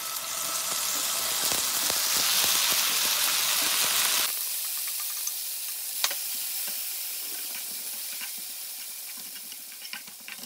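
Garlic and rinsed kimchi fry in a hot pan with a dense, loud sizzle that swells over the first few seconds, then settles into a quieter crackle with occasional sharp pops.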